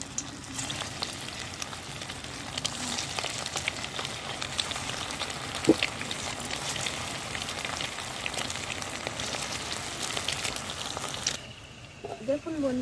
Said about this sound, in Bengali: এবার আমি গরম তেলে ভেজে নেব